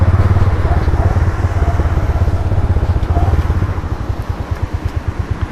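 A motorcycle engine putters close by with a rapid, even pulsing idle that softens and turns choppier toward the end, with some background voices.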